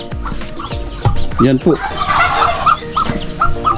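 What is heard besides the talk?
brooding duck with chicks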